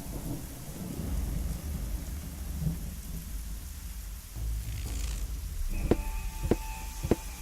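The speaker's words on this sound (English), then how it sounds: "Because you'll be hit by lightning." Rumbling thunder and steady rain roll through a scene in the video game Chaos on Deponia, ending in three sharp, loud lightning cracks in quick succession.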